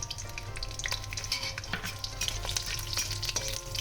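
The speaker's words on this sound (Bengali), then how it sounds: "এবার আমি গোটা শুকনো লঙ্কা দুটো ভেজে আমি তুলে নেব আর তার সঙ্গে দিয়ে দিচ্ছি গোটা কয়েক কোয়া রসুন" Whole dried red chillies and a few garlic cloves fry in hot oil for a taro-leaf bhorta, giving a steady, close crackling sizzle broken by sharp stirring clicks throughout, with no voices.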